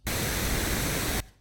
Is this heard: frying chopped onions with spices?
no